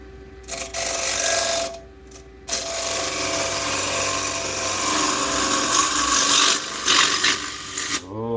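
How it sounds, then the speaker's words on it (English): A wood lathe turns a piece of wood while a tool makes a sweeping cut across its bottom, a steady close rasping and scraping that runs almost the whole time with two brief drops into quiet. "another sweep across the bottom here, just to flatten that out and get one cutting cut instead of the scraping cut"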